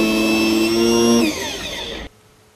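Small bench drill boring holes in a printed circuit board with a 0.5 mm bit, a loud whining motor with bright harmonic tones that drops in pitch as it loads or winds down, then cuts off abruptly into near silence.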